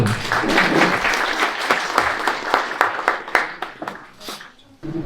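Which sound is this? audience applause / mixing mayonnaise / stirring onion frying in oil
audience applause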